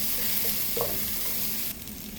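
Egg roast masala sautéed and stirred in hot oil, a steady close sizzle with a soft scrape of the spoon, continuous and moderately quiet.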